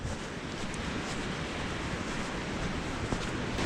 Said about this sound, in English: So not only do we have the waves breaking over each other over there, we also have them crashing into the water over here